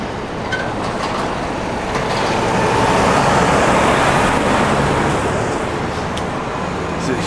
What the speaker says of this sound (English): So yeah, all kinds of trucks here.